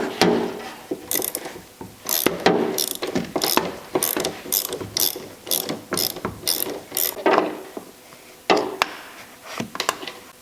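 Repeated ratchet strokes loosen a 13mm nut on a Porsche Boxster suspension bolt, with bursts of close, crisp clicking in a regular back-and-forth rhythm and brief gaps between swings.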